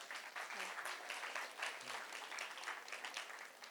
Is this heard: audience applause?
yes